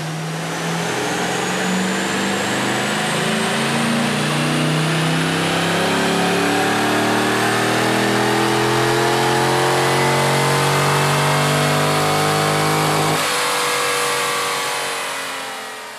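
A supercharged 4.6-liter Ford GT engine revs continuously on a dynamometer, its pitch climbing steadily through a long, loud pull before cutting back sharply near the end.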